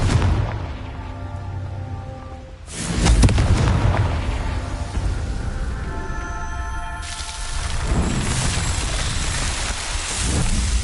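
Confringo blasting spells exploding in Hogwarts Legacy: two loud, booming bursts with heavy rumble, one a few seconds in and another midway, over a constant dense roar of game noise.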